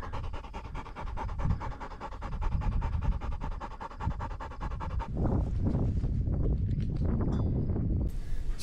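A hunting dog pants rapidly and rhythmically close by on a sharptail grouse hunt on the Montana prairie, heavy breathing with rustling and handling noises.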